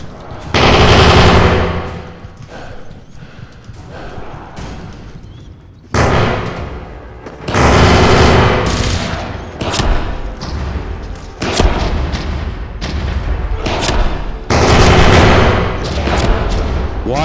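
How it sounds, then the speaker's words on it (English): Loud, close machine gun fire in a video game comes in long rattling bursts with short lulls between them, mixed with booming thuds, and no one talks. "Why is she shooting me?"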